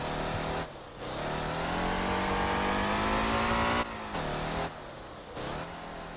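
V12 car engine in the driving game Motor Town, droning loudly and steadily with brief dips and rises in pitch as it shifts and revs, heard alone without talk.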